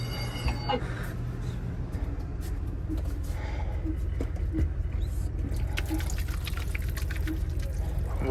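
Hands washed under running water from a tap in a motorhome, a steady close splashing stream with small drips and clinks throughout, with a faint voice briefly in the background.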